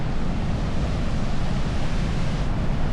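River water rushes steadily near waterfalls along a mountain trail, a dense, even roar that stays close and constant throughout, with no voices.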